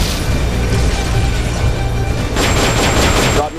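An M60 machine gun fires in the video game Metal Gear Solid: Peace Walker, giving dense, noisy bursts of rapid gunfire with no gaps that carry on to the end.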